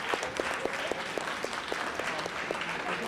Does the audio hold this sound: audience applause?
yes